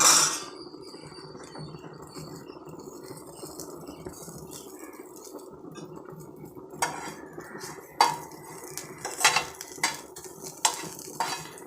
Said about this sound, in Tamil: ஸ்டவ் கொஞ்சம் நல்லா ஸ்லோ ஃப்ளேமில் வச்சு கொஞ்சம் மெதுவாக அப்படியே வதக்கி கொடுங்க